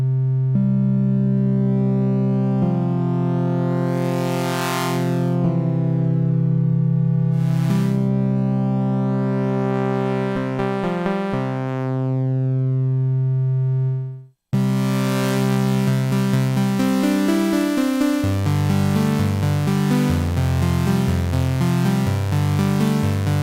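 Bleass Megalit wavetable synth holding sustained tones while cycling through its waveforms, the timbre sweeping and shifting, then a brief cut and a busier, brighter sequence of changing notes.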